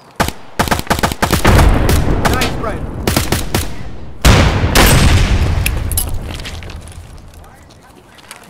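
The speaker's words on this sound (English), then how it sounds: "They're chucking grenades." Grenade explosions and gunfire in Escape from Tarkov: rapid bursts of shots, then booming blasts that roll out and decay, loud and close, with a second heavy blast midway and the noise slowly fading.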